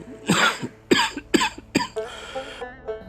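A cartoon character coughs in a Bangla animated folktale, a fit of four harsh, wet coughs in quick bursts followed by a softer wheezy throat sound, close and clear with no talk.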